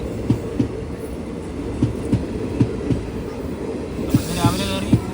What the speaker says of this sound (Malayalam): ഉച്ചയ്ക്ക് തിരുച്ചെന്തൂരിൽ നിന്ന് പുറപ്പെട്ട വണ്ടിയാണിത്.